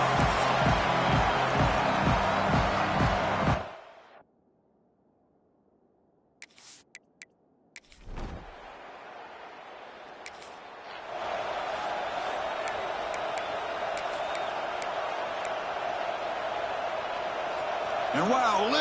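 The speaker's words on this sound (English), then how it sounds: "And wow, listen to this crowd noise. This stadium is vibrating." Stadium crowd at a football game, a steady broad roar filling the space, cutting out briefly with a few isolated knocks before the wide wash of noise returns and holds.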